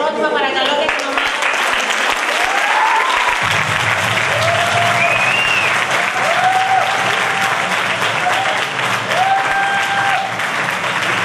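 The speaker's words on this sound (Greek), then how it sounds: "Ένα χειροκρότημα παρακαλώ για την ομάδα." A room full of people applauds a student team at an Erasmus+ Video Art closing ceremony, the clapping sustained and loud for the whole stretch while sustained tones and faint voices sound beneath it.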